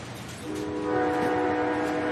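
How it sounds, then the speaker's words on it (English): A train sound effect plays as a loud, sustained rumble with a rising horn-like tone layered over rail noise, steady and close throughout. "Yeah, let's get that train going."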